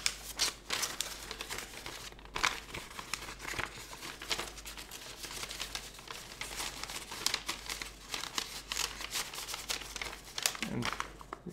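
Paper is handled and slipped into an envelope: a close series of crinkles, rustles and crumpling sounds that come in irregular bursts while a person talks over them.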